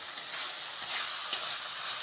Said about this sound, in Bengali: এই যে দেখুন কষিয়ে নিচ্ছি